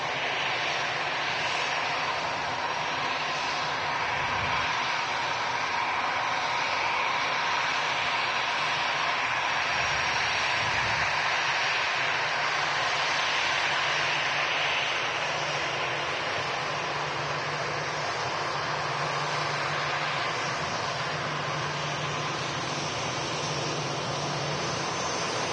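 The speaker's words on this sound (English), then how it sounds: "Coming in from Belfast, an A320 Golf Echo Zulu Tango November on the reg. EasyJet." An easyJet Airbus A320 airliner with fenced winglets arrives from Belfast at Manchester Airport, a loud continuous jet-engine roar and whine that holds steady for the whole stretch.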